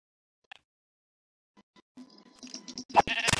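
Sheep bleating in Minecraft: after near silence, a short bleat rises at the end amid busier game sounds, fairly loud and close.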